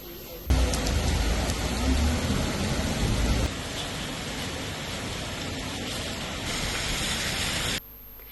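Heavy rain pours steadily onto waterlogged roads in Ratnagiri, Konkan, a dense, loud, continuous hiss that shifts slightly in tone midway and cuts off near the end.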